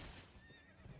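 A horse whinnying in Elden Ring, one short, faint neigh rising over a low rumble with hoofbeats beneath.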